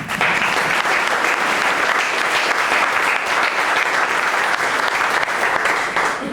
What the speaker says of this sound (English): You should all have a round of applause for that.